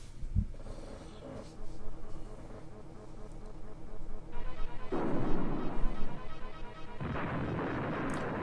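Tomahawk missiles and bombs in the SNES game Super Conflict boom in retro synthesized bursts, a rumbling explosion swelling midway and another noisy blast near the end.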